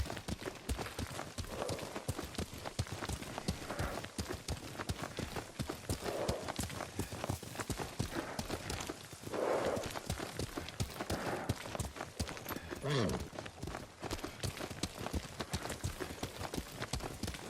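Horse hooves clip-clop steadily in a quick riding rhythm in the Ghost of Tsushima game, close and continuous across the whole stretch with occasional faint background sounds.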